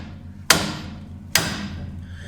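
Two sharp metallic hammer strikes ring out on a Jeep ball joint being popped loose, spaced under a second apart, each with a bright ringing decay.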